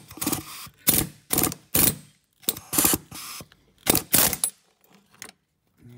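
An air hammer fitted with a chisel works a grease fitting loose, firing in short loud bursts of rapid hammering separated by brief pauses, about eight bursts in total, close and without talk.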